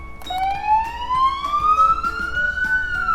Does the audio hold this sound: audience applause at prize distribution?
no